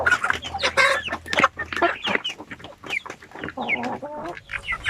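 Several chickens cluck and squawk close by in quick, overlapping bursts, with no one talking.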